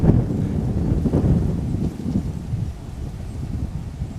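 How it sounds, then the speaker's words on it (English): Wind blows outdoors over a wooded tree line during a hunt, a steady low rumbling buffet with gusts that ease off partway through. "the wind is in my favor here. It's blowing a little bit out of the east, southeast"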